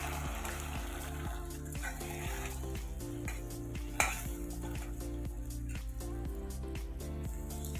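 An egg frying in mustard oil in a kadai, a faint steady sizzle with soft stirring and a few light clinks of utensil against the pan, with background music underneath.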